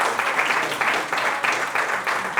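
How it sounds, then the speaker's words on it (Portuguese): A live podcast audience applauds after a talk, a steady wash of many hands clapping in pulsing waves, moderately loud and without speech. "Eu peço só uma salva de palmas aqui para o Dr."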